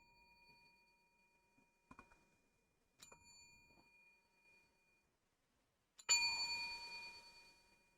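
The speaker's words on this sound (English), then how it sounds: "I have a desktop bell." A desktop bell of the kind found on a service counter, struck once with a sharp metallic ding that rings out and decays; a few faint taps and small knocks come before it, otherwise quiet.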